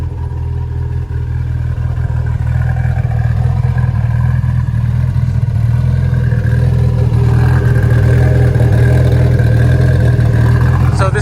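Car with a 5S-GTE engine (98-plus block with a 3S head, around 650 wheel horsepower) running nearby with a steady, loud, low engine drone and slight revving through the whole stretch.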